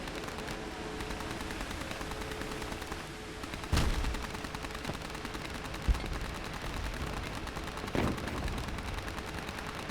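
Rapid continuous machine gun fire from boat combat in Age of Water, a dense rattling stream with a few heavier thuds punching through, steady and close.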